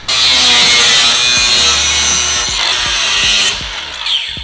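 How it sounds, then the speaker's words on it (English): A loud power tool grinds and cuts through a metal bracket on a JZX100 car, a harsh continuous whine with sharp clicks and knocks, easing off near the end. "We have to cut this off, right?"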